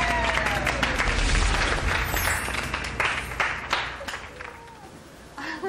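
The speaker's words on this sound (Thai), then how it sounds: "ขอเสียงปรบมือให้คุณสันตินะครับ" Audience at a New Year stage show claps for a guest called to the stage, a lively burst of applause with some cheering that gradually thins out toward the end.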